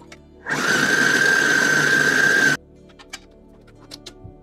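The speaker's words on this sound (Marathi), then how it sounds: "आता या खजुराच्या बिया काढलेल्या आहेत, ते बारीक करून घेऊया" Electric grinder whirring loudly for about two seconds as it grinds pitted dates for amaranth ladoo, then stopping abruptly, followed by a few faint clicks and kitchen knocks.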